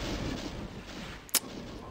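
A Mancubus in the video game Doom 2 fires, a single sharp, punchy blast bursting out over a low, steady game background.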